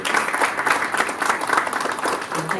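A forum audience at a higher education event applauds its panelists, a steady, dense round of clapping throughout, fairly loud and close, with no talk over it.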